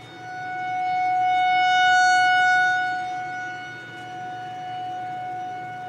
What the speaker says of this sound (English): siren test here in Seguin